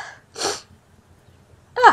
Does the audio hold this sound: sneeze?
yes